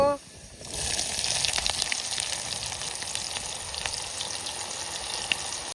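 Onion goes into hot oil with reddened garlic for Vidarbha kadhi-khichdi: a sudden loud sizzle bursts in after a brief quiet, then settles into a steady, close crackling fry.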